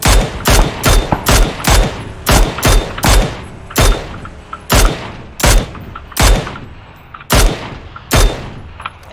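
Rapid gunfire in the PUBG video game, about fifteen sharp close shots in irregular bursts and single cracks, each ringing out with a decaying tail, loud and without talk.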